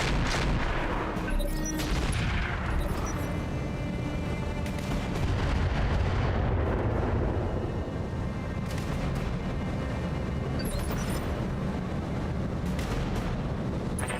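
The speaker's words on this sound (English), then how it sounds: "there's a boatload of turrets about to unload on this poor Wolverine" A barrage of turret fire pounds a Wolverine mech in BattleTech (RogueTech mod), a dense, continuous roar of booming cannon shots and explosions that stays loud and unbroken throughout, with sharper blasts cutting through the rumble.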